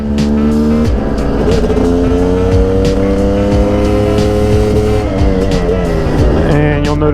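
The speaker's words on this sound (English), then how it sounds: "I'm giving it a little bit more throttle than I've given it in the past, because this is the final break-in" A Yamaha YZ250 two-stroke dirt bike engine, freshly rebuilt and in final break-in, revs loudly and continuously, its pitch rising and falling as it runs through the gears, with no talk.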